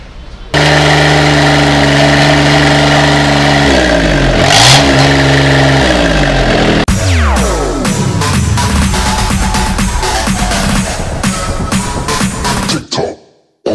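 Engines rev at a shop selling engines, loud and close, with sustained roaring that rises and falls, a sharp change in pitch midway, then rapid revving pulses before cutting off abruptly.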